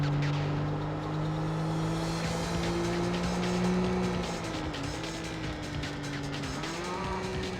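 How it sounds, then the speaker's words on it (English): Video game BMW Z3 speeding through a village, its engine droning steadily and rising and falling in pitch, loud and close throughout with tyre noise underneath. "There is a speeding BMW Z3 in the village."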